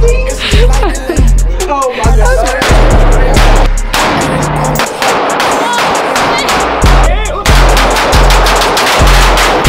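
Rapid bursts of gunfire crack out at a shooting range, loud and close, with repeated shots in quick clusters over most of the stretch and brief gaps between volleys.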